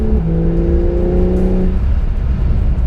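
A 2020 Porsche 911 Carrera (992) with a 3-litre turbocharged engine accelerates, its loud, close engine note rising in pitch for about a second and a half, then settling into a steady drone with road rumble.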